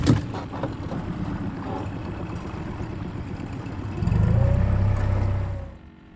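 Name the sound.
fishing boat motor running in gear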